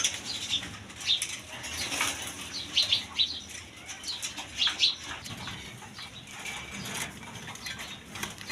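Quality pigeons at a wholesale pigeon market flap their wings in several quick bursts, mid-distance, over a faint steady background hum with no talk.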